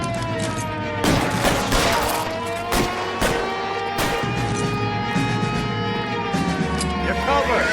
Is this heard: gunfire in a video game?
yes